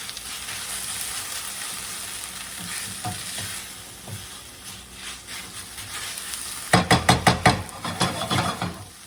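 Onions fry in a pan while a grilled cheese and tomato bisque is cooked, giving a steady close sizzle that builds into a louder run of rhythmic stirring scrapes and clatters near the end.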